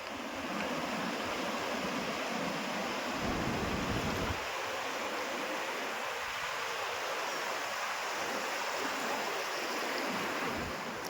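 Steady roar of surf washing on a sea shore during a low-pressure storm, with broad continuous rushing noise and some wind, loud and unbroken throughout.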